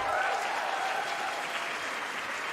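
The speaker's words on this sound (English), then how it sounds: "So give them one more round of applause, ladies and gentlemen." An audience at an opening ceremony applauds in a steady, even wash of clapping from a large crowd throughout.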